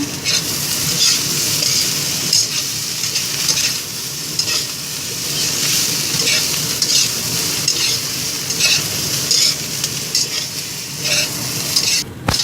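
Sliced potatoes with spring onion, chicken powder and salt sizzle loudly in a frying pan while being stirred, a steady close crackle broken by repeated scraping strokes of the utensil.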